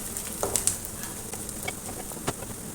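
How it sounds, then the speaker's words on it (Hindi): Ginger garlic paste frying in a pan with onion, a steady close sizzle with small crackles and pops, no voices. "अब इसमें 1 चम्मच अदरक लहसुन की पेस्ट डालूँगी। लहसुन को ब्राउन करूँगी।"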